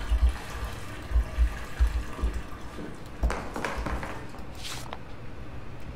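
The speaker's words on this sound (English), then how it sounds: "I can use that soap again, look. Just rinse it off." Running tap water splashing in the video game SOMA as soap is rinsed off, a steady faucet flow with a few louder low thumps early on and a brief hiss near the end.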